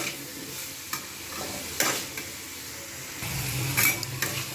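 Vegetables with cumin powder and other spices stirred and fried together over low heat in a pan for a vegetable paneer dish, a steady close sizzle broken by scraping strokes of a spoon against the pan, with no talking.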